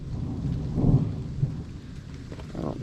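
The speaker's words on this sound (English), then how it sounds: "Ooh, hear that thunder." Thunder rumbles low and rolling through a thunderstorm with steady rain falling, heard outdoors near a broken-down vehicle during roadside repairs.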